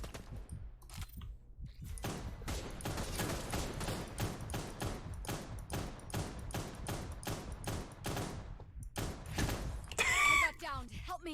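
Gunfire in the video game Cyber Hunter rattles off in rapid, repeated bursts of sharp shots for most of the stretch, with brief pauses between volleys and a short electronic tone near the end.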